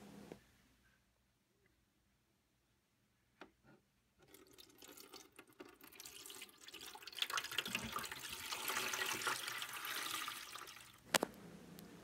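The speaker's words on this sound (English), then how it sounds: "Now it's time to fill our pool with water." Water pours into a small toy pool: a few faint drips and handling noises come first, then a splashing stream rises and swells, fairly close, ending with a sharp knock.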